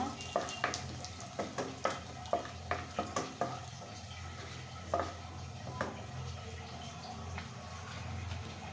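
Whole cumin seeds frying in hot oil give a soft, steady sizzle under repeated sharp clinks and scrapes of a spoon stirring the pan, the tapping fading out to leave the quiet frying hiss.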